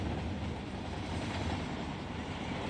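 A chemical freight train of plastic pellet hopper cars rolls along in Run 8 Train Simulator, a steady low rumble of wheels and wagons with faint clatter, close and continuous, ending on a brief sharp knock.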